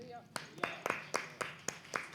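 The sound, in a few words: congregation clapping hands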